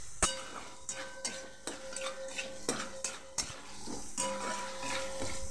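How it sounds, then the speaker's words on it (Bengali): A spatula scrapes and clanks in a wok as spiced potatoes and pointed gourd are sautéed. Sharp metallic clinks repeat roughly every second over a faint sizzle, close by and moderately quiet. "দিয়ে এবার সাতলে নিচ্ছি"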